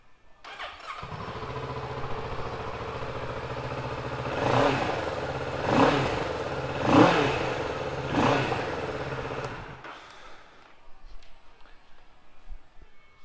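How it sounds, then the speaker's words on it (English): Two-cylinder 2019 Kawasaki Z650 ABS motorcycle engine starting and idling close by, with three distinct rising revs blipped in the middle before it shuts off and fades to near silence. "two cylinder engine, which we will give a fire up right now."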